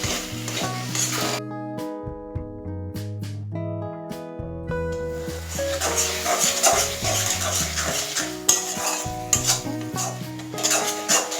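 Turmeric, sugar and cumin powder being stirred in a pan, with steady scraping and sizzling from close by while music plays over it; a faint dog bark also seems present.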